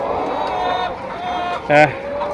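Sixty-seven-week-old layer hens on a poultry farm in Alamdanga, Chuadanga, give one short, loud cluck over a steady murmur from the flock, while people talk nearby.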